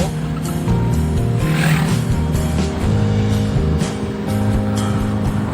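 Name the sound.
2011 Toyota Avanza accelerating uphill in third gear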